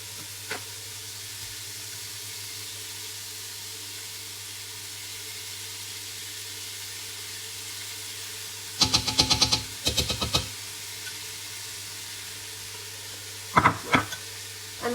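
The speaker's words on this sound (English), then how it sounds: "you can hear the pop of the crackle of all the spices and of the sauteing sounds of the onions" Spices and onions frying in oil for a dum chicken biryani hiss in a steady low sizzle, broken by a couple of brief clattering bursts from stirring, with no voice.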